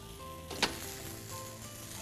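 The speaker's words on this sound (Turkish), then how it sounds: "İyice bir kızarsın, şöyle nar gibi olsun." Spring-roll style börek frying in hot oil, a steady close crackling sizzle with a brief sharper spatter burst partway through.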